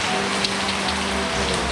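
Rain falls steadily, a dense continuous hiss of drops striking surfaces, with a low hum underneath.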